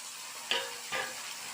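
Onions and green chillies sautéing in a pan for a mixed vegetable curry give a faint, steady sizzle, broken by two quick stirring scrapes close by, with no voices.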